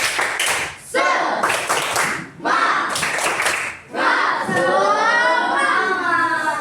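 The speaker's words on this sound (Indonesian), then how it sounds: "Kita tepuk semangat bareng-bareng ya." A primary class of children, grade 5B, claps a rhythmic spirit chant together in bursts of patterned claps with brief pauses between rounds, loud and close, with young voices shouting along.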